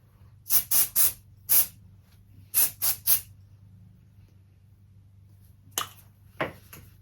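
Several short aerosol hairspray bursts hiss close by, a quick cluster of four, then three more, with two fainter puffs after a pause.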